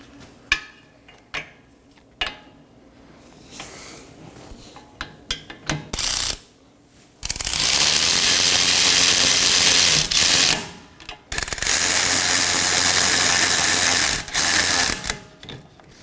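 Ratchet snugging 18mm caliper bracket bolts on a Chevrolet Equinox rear brake: a few scattered clicks and taps, then long bursts of rapid, loud ratcheting close up, pausing briefly between runs.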